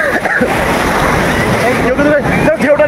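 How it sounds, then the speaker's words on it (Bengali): Ocean surf breaks on crowded Puri beach, a continuous loud wash roaring under gusty wind buffeting the microphone, with voices of people faintly audible in the mix. "ঢেউটা দেখো, জাস্ট ঢেউটা দেখবো একবার"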